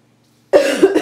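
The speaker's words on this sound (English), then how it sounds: "Sorry, I keep coughing." A single sharp cough after a brief silence, close and loud.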